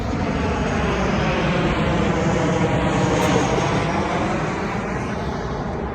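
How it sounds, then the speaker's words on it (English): An airplane flies over the Donington Park race circuit as a loud, continuous engine roar that fills the whole stretch, swelling slightly and then easing, with no talking. "Get interrupted by planes."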